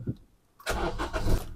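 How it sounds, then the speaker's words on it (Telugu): A Maruti Ciaz top-end model starting on the key: a brief quiet lull, then the engine catches and settles into a steady, fairly loud run. "ఒకసారి వచ్చేసి మనం వెహికల్ స్టార్ట్ చేద్దాం"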